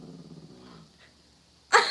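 A dog growls low and rumbling for under a second, then a sudden loud bark or yip bursts out close by at the end, with no talk over it.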